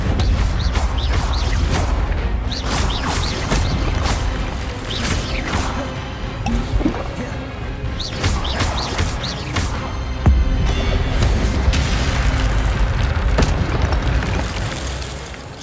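The Incendio fire spell in the fantasy game Hogwarts Legacy sets off a loud, continuous rush of roaring flame with repeated bursts and crackling blasts, with no pauses across the whole stretch.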